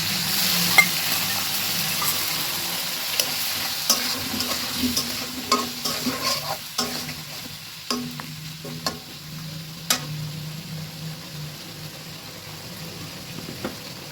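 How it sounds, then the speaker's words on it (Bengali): Potatoes sizzle with a ground spice paste and a splash of hot water in a pan, a steady moderate frying hiss punctuated by regular spatula scrapes and taps. "এখন আলুটা খুব ভালোভাবে মশলার সঙ্গে কষিয়ে নেব"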